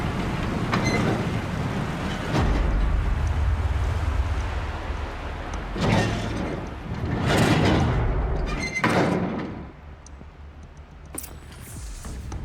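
A heavy gate lowered in Horizon Zero Dawn's waterlogged frozen setting: deep rumbling grinding swells in several loud surges, with clanking bursts and a softer, settling tail.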